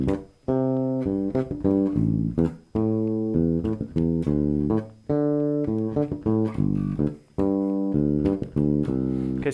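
Bass guitar line played through a chord progression with a 16th note skip and a muted ghost note, plucked notes in a bouncy repeating rhythm, clear and close with no talking.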